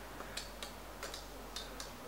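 A West German kitchen clock with a built-in egg timer, made by the Blessing Electronic Company, ticks steadily. The ticks are faint and evenly spaced, with a soft alternating tick-tock rhythm and no talking.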